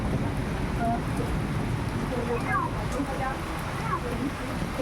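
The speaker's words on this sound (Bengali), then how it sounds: "বিদ্যুৎটা কেমন চমকাচ্ছে দেখছো, মেঘ ডাকছে বিশাল।" Steady rain hiss fills the scene with a low thunder rumble underneath, while faint voices murmur in the background.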